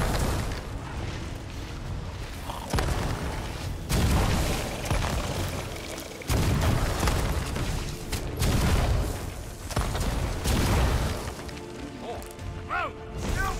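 Repeated heavy blasts from thrown blunderbombs in the Sea of Thieves pirate game, loud crashing booms arriving every couple of seconds and layered with dense in-game clatter.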